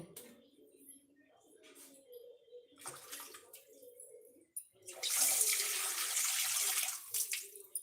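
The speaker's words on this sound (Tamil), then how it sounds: "கொஞ்சமாக தண்ணி ஊற்றிட்டு" Water is poured from a vessel while cooking in a home kitchen, a steady splashing stream rising near the end after softer pouring and clinking, with a bird cooing faintly in the background.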